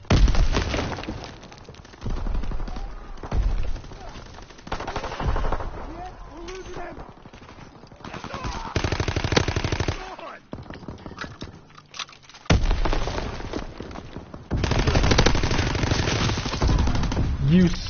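Rapid video-game gunfire from Call of Duty WW2, repeated loud bursts of shots and automatic fire spread through the stretch, with a voice talking over the action at times.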